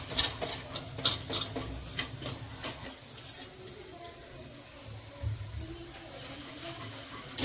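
Spices are stirred into jackfruit sabzi in a pan, with irregular close scrapes and light metallic ticks of the spoon against the pan, busiest at the start and quieter later.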